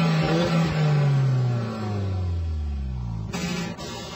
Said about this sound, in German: Zwischen den Hinterrädern erfüllt es Turbodumpf und vierzylindrig.